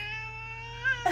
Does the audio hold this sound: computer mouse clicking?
no